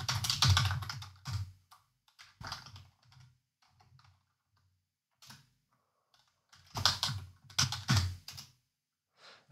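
Bursts of rapid clicking keystrokes on a computer keyboard while JavaScript is entered into a browser console, close and crisp, separated by quiet pauses and a few isolated taps.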